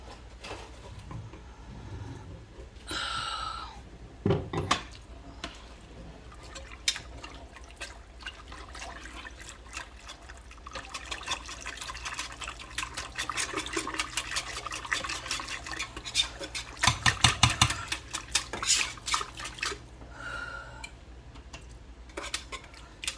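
A whisk scrapes and clinks against a pot while stirring a lumpy, thickening mixture, with uneven metallic scraping and taps close by, louder bursts near the middle and later on, and no talking.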